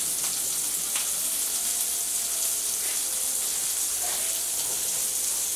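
Onions sautéing in a hot pan for Hawaiian loco moco, a steady bright sizzle with a hissing wash and occasional soft stirring scrapes, close and continuous with no talking.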